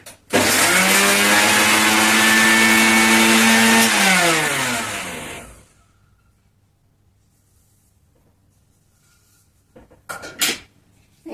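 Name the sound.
mixer grinder grinding garlic and coconut masala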